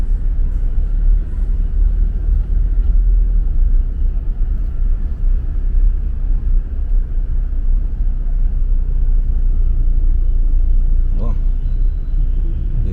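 A car rolls along just ahead on a quiet Angeles City street after a typhoon. Its engine and tyres make a continuous low traffic rumble, fairly loud and close, with a short sharp clatter near the end.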